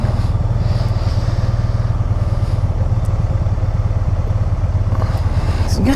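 A 2010 Can-Am Spyder RT SM5 with a stock exhaust idles in a steady, close, low throbbing rumble with a faint clatter, unbroken throughout.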